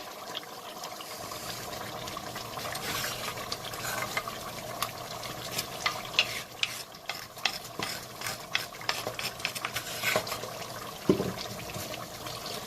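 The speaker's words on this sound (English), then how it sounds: "Give it a little stir." A pot of fried okra soup with pepper is stirred with a utensil, giving close, irregular scraping and clinking strokes over a soft bubbling sizzle, with no voices.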